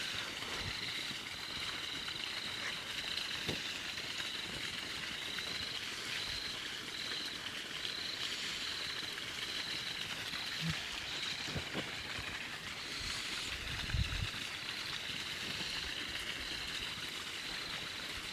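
Water being filled outdoors at midnight makes a soft, continuous trickling rush, with a steady chorus of night insects droning faintly above it and an occasional small knock.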